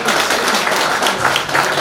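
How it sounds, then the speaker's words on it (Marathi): An audience at a 2014 farewell ceremony claps loudly in a dense, continuous burst of applause that fills the whole short stretch. "एकदा जोरदार टाळ्या वाजायच्या आहे"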